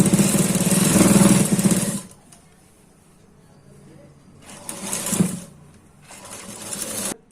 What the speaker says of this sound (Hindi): अब हम दूसरे साइड में भी इसे शोल्डर ज्वाइन करेंगे और इसे हम डबल डबल सिलाई लगाएंगे